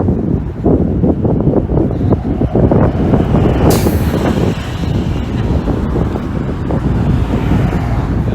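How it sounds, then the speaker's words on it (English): City bus passing close by on Oakwood Avenue in York, Toronto, a loud, steady engine roar and rumble with wind buffeting the microphone, gradually fading. "And there's another bus."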